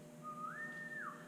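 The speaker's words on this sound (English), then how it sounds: "I called her in with the whistle." A single clear whistle calls a horse in an arena, rising in pitch, holding steady, then falling back. It is soft and heard alone.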